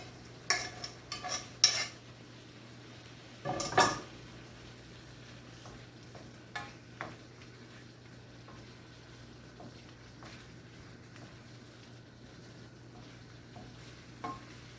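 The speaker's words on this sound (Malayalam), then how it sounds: "ഇനി നമ്മൾ വേവിച്ച് വെച്ചിരിക്കുന്ന ഈ പ്രോൺസും കൂടെ ഇതിനകത്തിലേക്ക് ഇട്ട് കൊടുക്കാം" Cooked prawns tumble into a thick, frying prawn roast gravy and are stirred through it, with a few sharp scrapes and clinks early on and a low steady sizzle underneath, then only sparse faint stirring taps.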